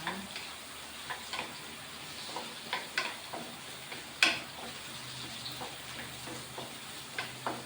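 Onions sizzle quietly in a frying pan for sweet and sour chicken, a soft continuous crackle broken by occasional light clicks and scrapes of a stirring utensil.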